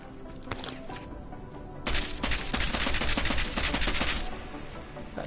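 Weapon fire with special ammunition in Deus Ex: Mankind Divided. A few scattered shots come first, then a loud, fast burst of automatic fire with a sharp, cracking texture that lasts several seconds before it cuts off.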